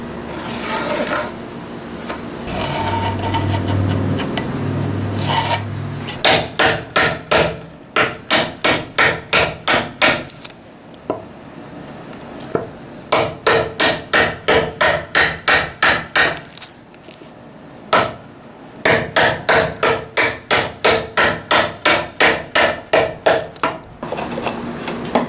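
Repeated hammer blows drive a sliding dovetail into a cedar Japanese planing board, coming in tight rhythmic bursts of sharp knocks separated by short pauses, close and loud with no talking.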